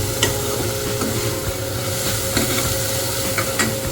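Long, mildly spicy chilies, four of them, frying and being stirred in a pan, giving a steady close sizzle with soft scraping stirs throughout and no talking.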